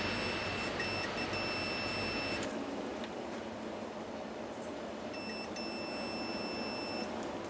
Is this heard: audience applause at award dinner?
no